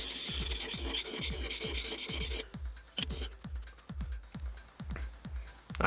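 A chisel is polished on a sharpening stone with quick, steady back-and-forth scraping strokes, close and even, and there is no talk.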